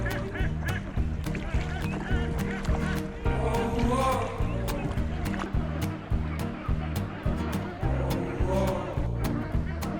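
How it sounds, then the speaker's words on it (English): A large flock of ducks quacks and honks continuously throughout, a dense overlapping chorus at a tea plantation campsite in Munnar, Kerala, with some voices mixed in. "I've literally never seen so many ducks in one place in my life."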